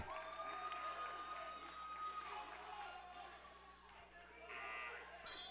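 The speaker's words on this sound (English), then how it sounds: "Crowd loving it here in the Kettle tonight." Basketball crowd in the Kettle arena cheering and buzzing during a holiday classic game, with a sustained buzzer tone early and a swell of noise near the end under a commentator's talk.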